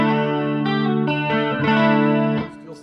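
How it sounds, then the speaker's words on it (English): Clean electric guitar played through a Line6 Helix with a jazz chorus effect, sustained shimmering chords and notes ringing out for nearly three seconds before fading, loud and close with no talk. "Let me go back to the jazz chorus sound for a second."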